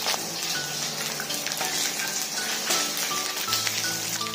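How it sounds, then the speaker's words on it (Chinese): Fish pan-frying in hot oil over low heat, a dense continuous sizzle with faint background music throughout. "我们把鱼放进去，小火慢慢煎，煎至两面金黄"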